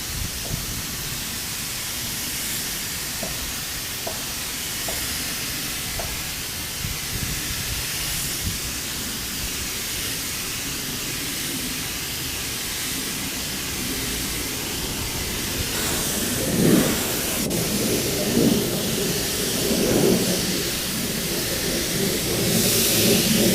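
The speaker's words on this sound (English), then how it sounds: "You can see I'm almost putting it on like it's an airbrush." Low-pressure spray painting of a Kawasaki Ninja motorcycle fuel tank in near-freezing weather, a steady airy hiss from the spray gun running throughout, with a few brief louder bursts toward the end.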